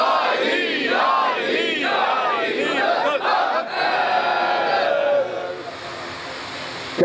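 A crowd at a majlis chants religious slogans in loud rhythmic swells, several rising and falling in turn before fading toward the end.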